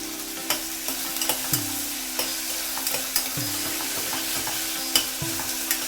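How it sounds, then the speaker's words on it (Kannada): Green chilli garlic paste sizzles steadily in a hot pan while a spoon stirs it, with soft scraping clicks over the continuous frying hiss. "ಇವಾಗ ಇದು ಹಸಿಮೆಣಸಿನ್ಕಾಯಿ ಬೆಳ್ಳುಳ್ಳಿ ಪೇಸ್ಟನ್ನು ಹಾಕ್ತಾ ಇದ್ದೀನಿ ನಾನು"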